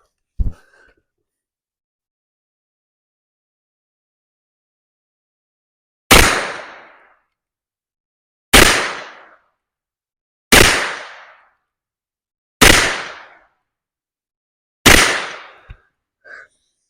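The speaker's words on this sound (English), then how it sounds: "And we're going to be shooting the target to the left." Five loud, sharp gunshots from a Hi-Point 995 carbine fired at a target on a range, spaced about two seconds apart after a long quiet stretch, each followed by a brief decaying echo.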